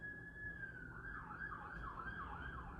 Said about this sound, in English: there's a siren outside